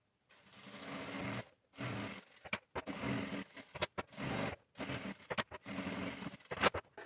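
A sewing machine stitching the zipper closure on a slim portable changing pad, running in several bursts of steady whirring with short stops and clicks between them, close by.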